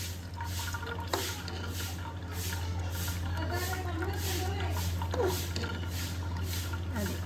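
Water drips and trickles as it drains from curdled milk in a home kitchen, a soft steady patter over a constant low hum, with faint voices in the background.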